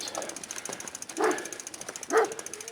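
Two dogs outside a fence at a stealth camp give a couple of short barks, a moderate distance off, over steady insect or outdoor background hiss.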